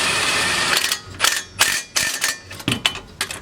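An impact wrench snugging up wheel nuts during a wheel stud replacement, several short bursts of rapid rattling hammering separated by brief pauses, close and fairly loud.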